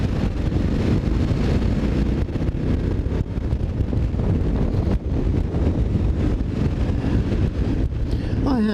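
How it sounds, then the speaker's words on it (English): Heavy outdoor wind buffets the microphone, a continuous loud rumbling roar with gusty fluctuations that persists throughout, while a person speaks underneath. "Sorry about the wind, I haven't got a lot of choice."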